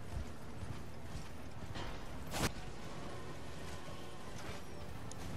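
Horse hooves clip-clopping faintly in a video game, a low-level patter with a sharp crash or impact partway through.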